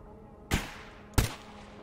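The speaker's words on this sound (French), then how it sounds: "Ça balance des grenades et tout quoi" Two grenades explode in STALKER GAMMA, about two thirds of a second apart: sharp, sudden bangs over a quiet background, the second slightly louder and deeper.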